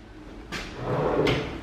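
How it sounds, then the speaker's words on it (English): A small pull-out drawer in a glass-fronted stainless steel medicine cabinet with self-closing hardware slides open or shut, giving two short sliding clunks about three-quarters of a second apart, close and moderately loud with no talking. "Got a pull-out little drawer right there."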